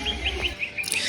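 A cucak ijo (green leafbird) sings in cold, overcast weather, giving bright repeated chirps and whistled notes over a steady background hiss, moderately faint.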